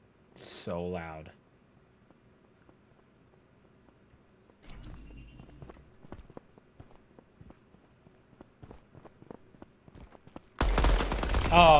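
Gunfire in Midnight Society's game, a run of sharp shots at irregular intervals, mostly quiet between them and building toward a loud, dense burst at the end, with a short stretch of talk near the start.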